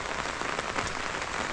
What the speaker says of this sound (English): the rains are more now compared to how I left